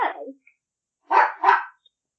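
A dog barks close by: one rough bark, a second of silence, then two quick barks in a row, loud and alone with no talking.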